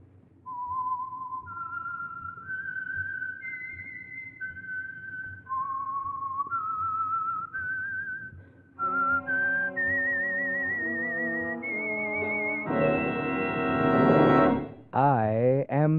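A whistled signature melody identifying the Signal Oil radio program The Whistler, a clear rising and falling tune of sustained notes played solo, then joined by orchestral music swelling loudly toward the end.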